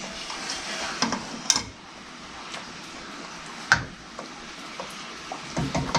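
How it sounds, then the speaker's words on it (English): Four cheese ravioli are stirred gently through simmering Alfredo sauce in a pan, with soft bubbling sizzle under occasional light clinks and scrapes of a utensil against the pan. "What we're going to do is gently stir these, not aggressively, because these are fragile"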